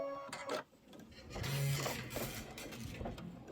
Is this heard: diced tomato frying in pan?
no